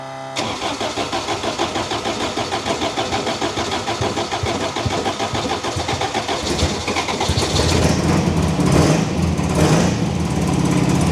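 An Elva car engine with a freshly reinstalled head cranks and fires, then settles into a loud, steady running idle that grows slightly fuller toward the end, with no talk.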